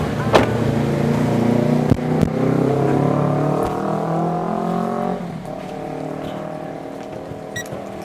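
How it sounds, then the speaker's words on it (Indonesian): A car engine hums steadily and then passes by, its pitch sliding downward as it goes, close and fairly loud throughout, with no talk over it. "Tuh, ada mobil."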